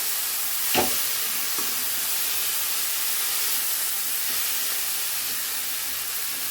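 Pumpkin and yardlong beans simmer in a pan, giving a steady broad hiss and soft bubbling throughout, with one sharp clink near the start and a fainter knock later; no talk.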